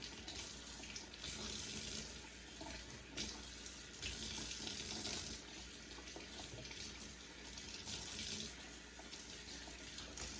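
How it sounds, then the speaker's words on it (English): Mustard and turnip green leaves being washed in water, a continuous splashing hiss of running water in a sink with soft sloshing as the leaves are rinsed, fairly faint, with no voices. "And I can't stand grit in my greens, so I wash every leaf."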